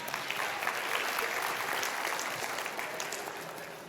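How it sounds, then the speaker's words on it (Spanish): An audience applauding at a talk, dense, sustained clapping from many hands at fairly steady loudness, easing off slightly toward the end. "Un aplauso para ustedes."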